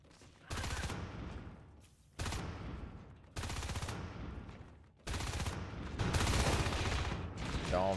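Bursts of automatic gunfire rattle in a competitive match of the Natural Selection team shooter, four long sustained volleys separated by brief gaps, loud and dense with no talk over them.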